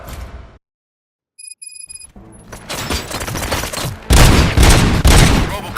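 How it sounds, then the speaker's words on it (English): Gunfire in the video game RoboCop: Rogue City: after a brief silence and some electronic beeps, loud bursts of rapid shooting build up and grow heavier, dense and close, with no talking. "Gunshots?"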